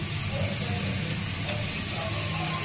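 Dried red chilli frying in hot oil gives a steady, close, unbroken sizzle and hiss from start to finish.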